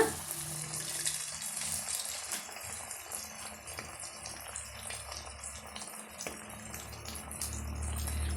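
Potato snacks fry in hot oil over a flame kept just below medium, giving a steady, close sizzling hiss with soft bubbling and crackle throughout.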